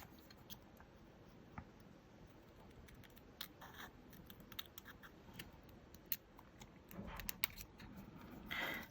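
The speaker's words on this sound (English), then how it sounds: "I think we need to cut some off the bottom." Scissors cutting a paper craft tag at close range: quiet, scattered snips and light paper rustles, growing a little busier and louder toward the end.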